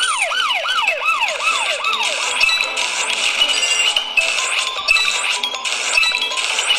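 A loud ambulance siren wails in repeated falling sweeps in a mini racing car video game, then shifts to a faster high-pitched yelp, continuous and close.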